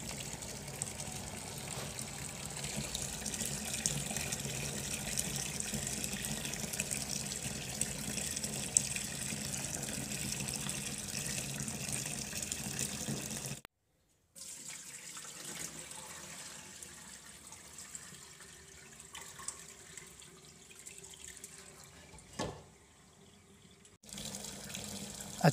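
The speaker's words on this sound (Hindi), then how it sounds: "चावलों को धो लेंगे।" Rice is washed by hand under a running kitchen tap, a steady close stream of splashing water broken by a brief pause, then softer swishing and trickling as the grains are rinsed.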